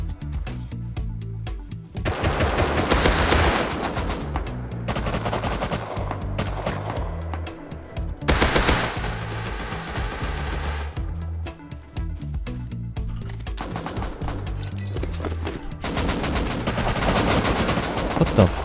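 Automatic rifle fire from a base raid in Rust, loud sustained machine-gun bursts rattling almost without pause, with short gaps between volleys and a few heavier blasts, continuing for the whole span.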